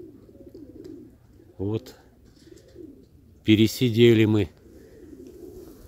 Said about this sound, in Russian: Ого, дикая темная голубка.